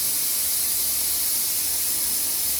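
A pressure cooker vents steam in a loud, steady, close hiss that holds unbroken from start to finish with no pauses.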